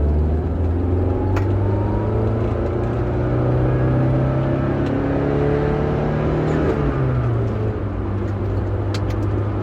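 A video game car engine revs hard and steadily at high pitch, a loud continuous drone that holds and climbs before a brief dip as a gear shifts, with no talking.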